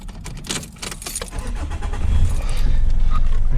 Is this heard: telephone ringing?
no